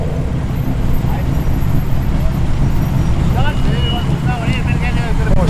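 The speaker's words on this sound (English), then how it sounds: "Got the Datsun Bluebird." A Datsun Bluebird rolls in and drives past at a Penrith cars-under-the-stars meet, its engine rumble close and loud within crowd chatter and background music, with people talking nearby.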